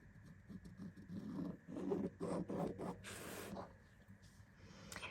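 A pencil drawn along a ruler to mark a diagonal line on quilting fabric, making soft, close scratchy strokes in short bursts with brief pauses between them.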